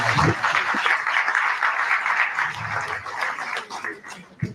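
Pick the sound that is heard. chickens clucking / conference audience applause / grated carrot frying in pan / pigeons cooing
conference audience applause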